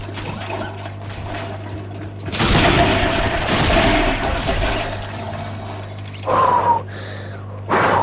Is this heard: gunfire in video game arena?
yes